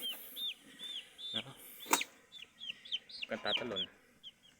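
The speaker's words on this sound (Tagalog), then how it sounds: "So ito ang ating sisiw" Three-day-old broiler chicks peep in repeated high, bright chirps, close and fairly loud, while a person speaks over them at intervals.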